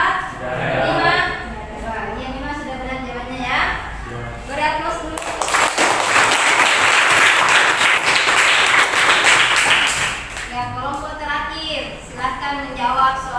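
Students in a classroom break into a burst of clapping lasting several seconds, with a teacher's voice talking before and after the applause.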